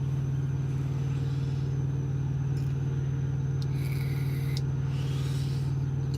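A parked semi truck's engine idles with a steady, continuous low hum and rumble, holding even throughout with no breaks, close to the listener.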